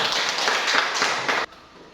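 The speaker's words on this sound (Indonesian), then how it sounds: "Tepuk tangan dulu untuk kelompok 2." A classroom audience applauds a student group after their discussion presentation, a dense patter of many hands clapping steadily for about a second and a half before cutting off abruptly, leaving near silence.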